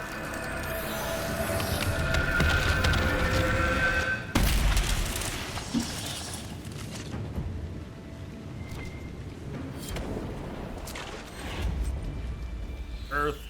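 A heavy earth-shaking strike from the video game Dragon Age: Inquisition lands with a deep boom about four seconds in, amid a dense wash of battle effects and rumbling, with a voice talking over the action.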